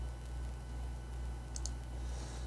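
A computer mouse gives two quick faint clicks in succession over a steady low electrical hum.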